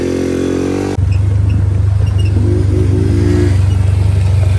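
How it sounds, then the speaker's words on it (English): A Can-Am DS90X quad runs close and loud, its engine shifting pitch about a second in and then holding a steady, buzzing drone with a slight rise in revs. "That's a cool little quad, dude."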